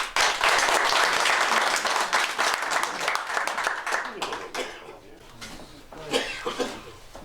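An audience at a carp fishing competition awards ceremony breaks into applause, loud sustained clapping that tapers off, with some voices in the crowd as it fades.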